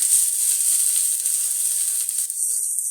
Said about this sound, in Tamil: இதை கொஞ்ச நேரம் நல்லா ஃப்ரை பண்ணி எடுத்துக்கலாம்